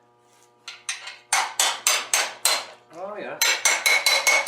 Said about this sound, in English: I've got a small little hammer here. Let's see if we can wedge this guy open.